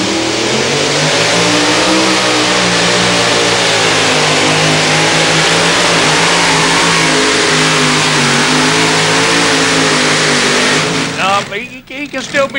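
A two-wheel drive pulling truck with a 557 cubic inch engine revs hard and loud through a pull at a Brandenburg, Kentucky event. The roar surges and holds with wavering pitch, then drops away near the end under faint announcer talk.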